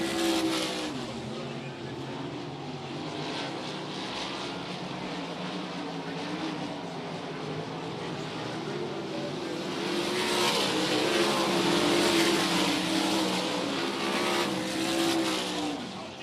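Race cars roar around the short oval at Texarkana 67 Speedway during the Short Track Nationals, engines droning continuously and swelling louder as the pack passes close by.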